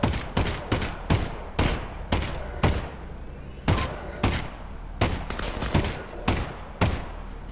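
Gunfire in the Half-Life: Alyx VR game: about a dozen sharp, loud single shots spaced irregularly at roughly half-second to one-second intervals, each with a brief ringing tail, no talk.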